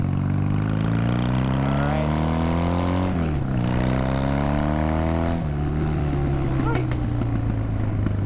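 A 1986 BMW R80 airhead bobber motorcycle revs up in rising sweeps, its boxer engine droning loud and close with a steady harmonic whine, briefly dropping back before climbing again, with sharp crackles near the end.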